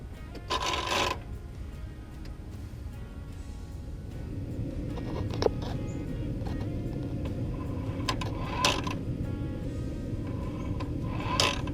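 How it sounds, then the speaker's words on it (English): A Ford F250 6.4 turbo actuator runs its self-test, its small arm moving back and forth with a steady low mechanical whir and a few sharp clicks, close and fairly quiet. "the actuator is supposed to do a self-test and move this little arm back and forth"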